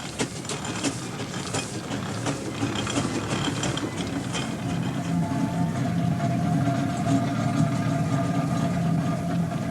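A heavy steam engine drives a portable sawmill at a steam fair, giving a loud, steady mechanical clatter and ratcheting rhythm with grinding machinery noise throughout.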